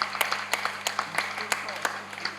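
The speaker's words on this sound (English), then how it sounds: "some clapping for Bobby also" An audience at an international poetry festival in Trivandrum, Kerala claps for a musician: a small crowd's steady, fairly quick rhythmic clapping over a low hum.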